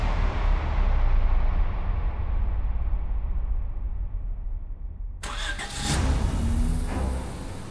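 Car engine cranking and firing up, then settling into a steady idle with a low rumble that swells again as it revs, loud and close.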